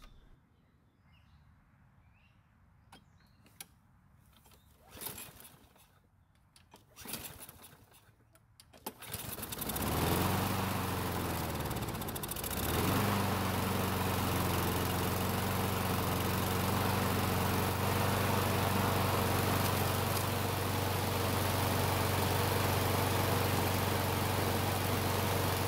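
A Craftsman lawn mower that fails to start when hot is pulled over a few times with rattling tugs, then catches and roars into a loud, steady close-up run that continues to the end.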